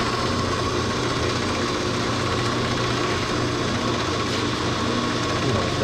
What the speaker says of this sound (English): right now we're gonna true this brake lathe adapter. We're gonna put it on the slow cut